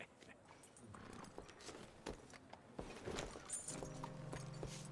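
Horse hooves clip-clop in the Western video game Red Dead Redemption 2, a steady walking rhythm close by, with a low droning tone entering partway through.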